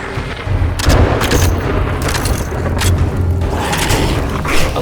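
Gunfire in the zombie survival game 7 Days to Die during a blood moon night, a few loud booming shots over a continuous rumbling, noisy game background, with no talking.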